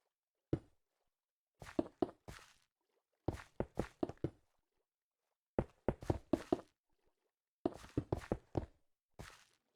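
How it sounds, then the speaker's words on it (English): Player footsteps in the Minecraft video game, clustered bursts of quick soft thuds separated by short silences, faint and alone without talk. "that's my footsteps I'm hearing."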